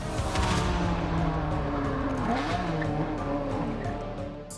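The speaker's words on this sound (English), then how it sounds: "A Ferrari speeds down a clear road and approaches a U-turn with confidence." A Ferrari speeding down a road into a U-turn, loud engine roar with squealing tires sliding through the turn, steady and close throughout.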